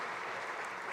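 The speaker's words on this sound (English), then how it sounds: "So I would appreciate your applause for this." Audience applause at an award ceremony, a steady dense wash of clapping heard briefly and evenly throughout.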